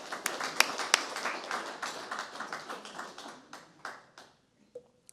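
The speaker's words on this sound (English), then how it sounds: "definitely deserves the applause" An audience at the NYC Greenways Summit 2024 applauds a new parkland announcement. The close, steady clapping thins out over about four seconds, and a few last scattered claps follow.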